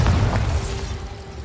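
A Bombarda spell explosion bursts out loud at the start as a deep boom, then rumbles and fades over about a second and a half.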